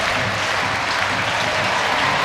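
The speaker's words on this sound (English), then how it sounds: "the home crowd rises to their feet. It's going to be a standing ovation for a big Steelers win." Home crowd at a Sheffield Steelers ice hockey game rising in a standing ovation, loud continuous applause and cheering filling the arena throughout.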